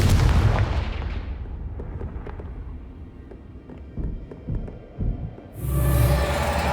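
A Confringo fire spell from Hogwarts Legacy bursts in a loud, booming blast that rolls off into a rumbling tail, followed by a few thuds and a second heavy whoosh near the end.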